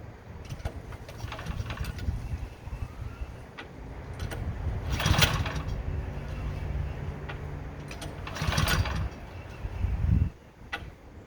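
A Craftsman snowblower engine is pull-started, with a low rumbling mechanical drone and a few sharp rope pulls and clunks over about eleven seconds, no talking.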